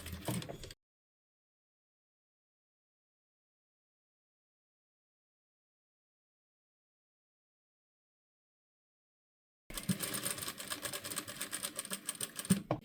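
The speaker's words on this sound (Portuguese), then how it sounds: "eu vou começar a costurar com 1 centímetro de costura" A sewing machine stitches the neckline of a Chanel-style jacket with a 1 cm seam allowance: a brief opening whir, a long stretch of silence, then a steady close run of stitching.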